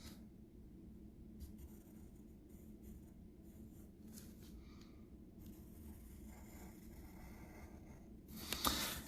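A pencil drawing lines on paper during isometric sketching, soft, faint scratchy strokes in short bursts separated by quiet gaps, with a louder rustle of the paper at the end.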